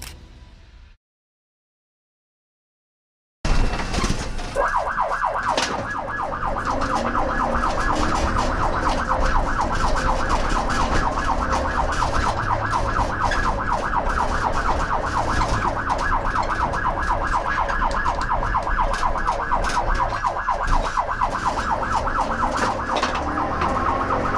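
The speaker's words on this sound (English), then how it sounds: "The sirens are on, and the chase is too." After a brief silence, police car sirens yelp and warble continuously and loudly over rumbling engine and road noise during a car chase, holding steady for the rest of the stretch.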